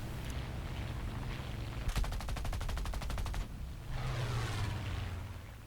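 Rapid automatic cannon fire from a Pyörremyrsky fighter aircraft in a video game's arcade mode bursts out in a fast, evenly spaced rattle for about a second and a half, set against a steady engine drone.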